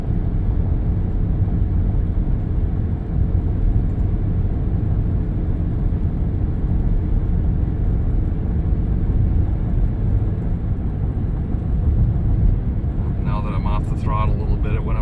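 Steady loud engine drone and road rumble fill the cab of a Chevrolet Silverado with a 2.7 turbo as it tows a GMC Sierra at a constant 55 mph.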